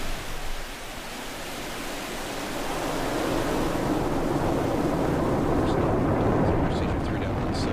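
A SpaceX Falcon 9 rocket roars just after liftoff, a broad, rushing roar that swells in the first seconds and then holds steady and loud.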